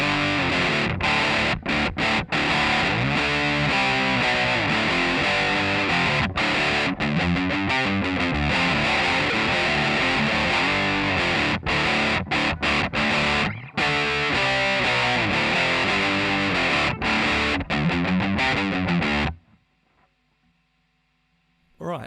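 Heavily distorted electric guitar plays a chorus, loud, dense chords with rhythmic chugging, ringing alone for about nineteen seconds before cutting to near silence.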